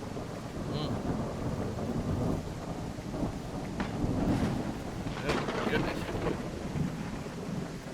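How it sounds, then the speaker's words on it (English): Fierce thunderstorm with heavy rain in the dinosaur survival game The Isle, a steady loud roar of rainfall broken by cracking thunder rumbles, with a man's brief exclamation over it. "That's a fierce storm."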